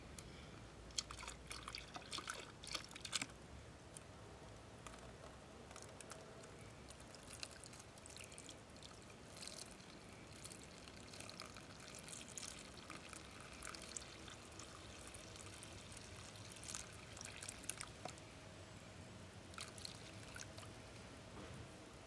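Liquid plaster pours and trickles steadily over lure masters in a pan for a long stretch, a quiet wet splashing with occasional drips and taps.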